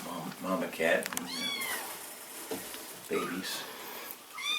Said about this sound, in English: That's the mama cat and